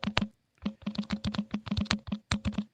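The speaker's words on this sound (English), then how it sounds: "I love the sound of the typing." Rapid clattering keystrokes on a computer keyboard, close and fairly loud, in quick irregular bursts with a brief pause near the start, no voices.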